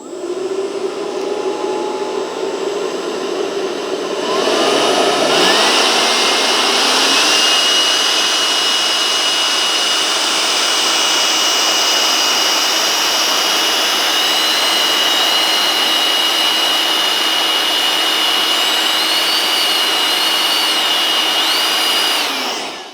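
A Milwaukee M18 cordless compact blower runs with a loud, steady jet-like roar that ramps up sharply after a few seconds, then holds at full speed with a rising high whine.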